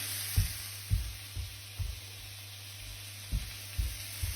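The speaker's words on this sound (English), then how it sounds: "Oh, the smell of cooking onions is so nice." Onions frying in a pan, a steady faint sizzle with a low hum under it and soft repeated stirring scrapes at an uneven pace.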